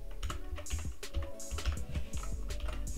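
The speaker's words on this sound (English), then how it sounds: "And I'm just going to type out glitch." Rapid clicking of keys on a computer keyboard as a word is typed, a close, quick burst of crisp taps with no speech.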